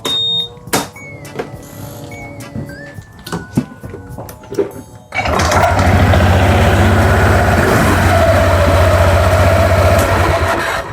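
A new motorcycle engine starts after about five seconds of clinking workshop noise, then runs loud and steady close by until the end.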